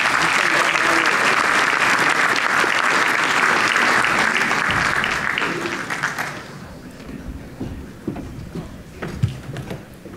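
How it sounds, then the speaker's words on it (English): Conference audience applauding to welcome a speaker, a dense sustained round of clapping from many hands that fades out after about six seconds into scattered claps and room noise. "Please join me in welcoming Matt Leopold."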